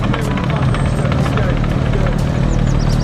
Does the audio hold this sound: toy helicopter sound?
yes